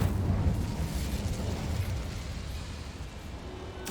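A fire spell cast in Hogwarts Legacy, a video game, sounds as a loud roaring burst that rumbles steadily for several seconds and then slowly fades, with no talking.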